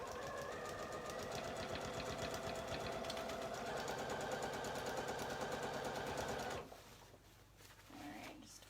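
A sewing machine stitches the waistband casing of a pair of shorts, a close, rapid, rhythmic clatter running steadily for about six and a half seconds before stopping, leaving faint handling sounds.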